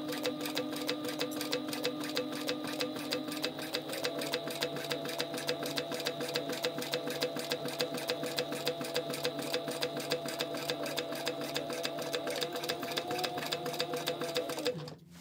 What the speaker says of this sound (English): Back stitching at the beginning and the end.